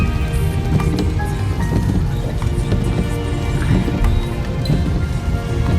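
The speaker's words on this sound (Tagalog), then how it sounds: "Terrible weather here in England, guys. Tingnan nyo. Grabe ang ulan." Heavy rain in England pours steadily and loudly close by, a dense, unbroken patter with no letup.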